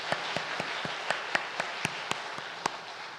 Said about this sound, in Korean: 그분들을 위해서 그럼 환영의 박수 한번 부탁드리겠습니다